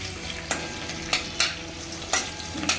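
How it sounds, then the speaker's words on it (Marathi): Curry leaves and tomato frying in hot oil for a Maharashtrian dal tempering: a steady close sizzle broken by several sharp clinks of a spoon stirring the pan, with no talking. "असं मस्त तेलात फ्राय होतो बघा"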